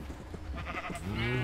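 Minecraft sheep in a field bleat close by, a short wavering baa rising at the end over faint game background, with no talking.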